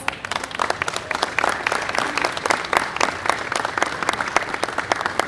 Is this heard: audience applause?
yes